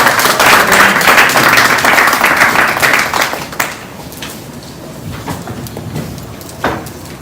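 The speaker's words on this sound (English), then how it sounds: "Please a round of applause for him" A conference audience at a fintech and cybersecurity summit applauds loudly with dense, steady clapping for a few seconds, then it thins out to scattered claps and quieter room noise.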